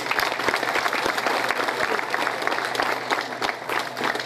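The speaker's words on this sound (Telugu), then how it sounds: "అందరూ గట్టిగా చప్పట్లతోటి వారికి" An audience claps loudly for retirees at a public gathering, a thick, continuous round of applause with individual sharp claps poking through. Faint voices murmur underneath.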